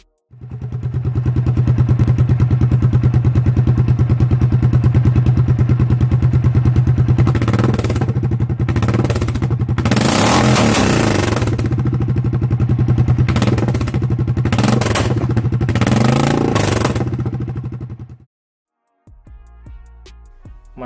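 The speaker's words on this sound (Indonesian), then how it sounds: "mesin silinder tunggal berkubikasi 652 cc yang mempunyai getaran khas serta suara yang menggelegar" A 652 cc single-cylinder motorcycle engine thumps loudly and steadily close by, with repeated blips of the throttle rising into hard revs before it cuts off, followed by a brief quieter tail.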